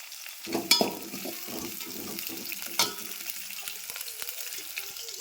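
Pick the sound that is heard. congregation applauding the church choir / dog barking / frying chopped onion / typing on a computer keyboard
frying chopped onion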